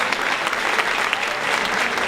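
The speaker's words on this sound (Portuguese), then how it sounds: "uma salva de palmas ao Senhor" A church congregation claps together in a dense, loud, sustained burst of applause that holds evenly throughout.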